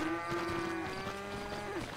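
A cow in GTA V lets out one long, steady, tonal moo lasting nearly two seconds, loud and close, with a slight pitch rise at the end over low game background noise.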